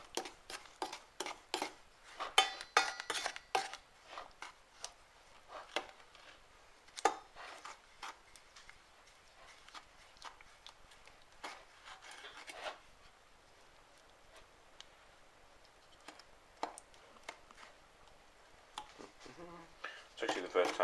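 A chocolate fudge mixture is stirred in a pan with a utensil, giving scattered light clinks and scrapes against the metal, some in quick clusters and others spaced apart, close and fairly quiet.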